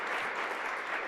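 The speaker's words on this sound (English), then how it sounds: "Give them an applause." An audience applauds at a Columbus Metropolitan Club event, a steady wash of hand claps at moderate level throughout the brief moment.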